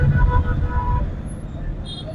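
Heavy road traffic waiting at a signal in Wagholi, a dense low rumble of buses, cars and trucks with engine drone close by and faint horn toots, while someone talks over it.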